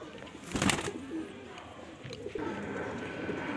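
A Madrasi Kasna pigeon gives a few soft, low coos close by, faint against light background noise.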